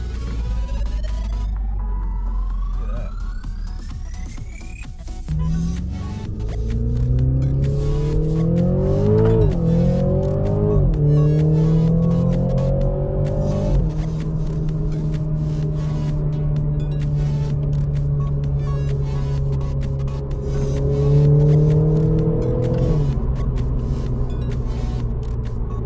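A BMW Z4 roadster's engine and exhaust while driving, pulling through rising revs in several gear-change sweeps, then cruising with a steady throbbing drone before another climb and easing off, close and loud with no talk.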